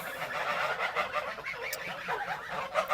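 Broiler chickens on a farmstead cluck and squawk continuously at close range, with overlapping fowl calls and no clear speech.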